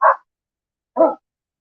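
Two short barks from dogs, about a second apart, each sharp and fairly loud, with silence around them and no talking.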